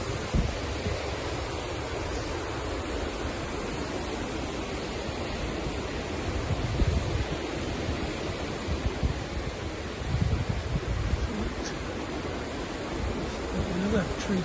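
Strong storm wind gusting steadily through tall trees on an exposed Scottish croft, a broad continuous roar with rougher low rumbling buffets from the microphone, sustained and loud throughout with no one speaking.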